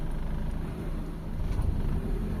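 A refreshed Mitsubishi Lancer GLi engine runs steadily while the car reverses, giving a continuous low rumble that stays close and fairly constant throughout, with no talk over it.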